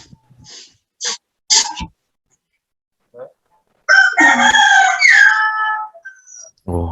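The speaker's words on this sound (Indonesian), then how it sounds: "Oh, ada yang melihara ayamnya," A rooster crows once, loud and close, with a long stretched call after a few short scattered noises in an otherwise quiet setting.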